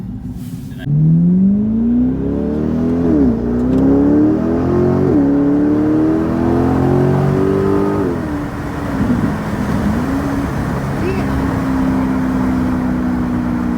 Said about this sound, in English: The exhaust sounds beautiful in this car.